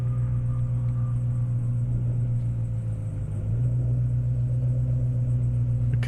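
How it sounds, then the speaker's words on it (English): A Ford Mustang and a Chevrolet Camaro rumble at a steady idle as they pull up to the drag line at an airstrip event, with a deep, continuous engine drone and a slight dip partway through. "the Camaro pulling up to the line."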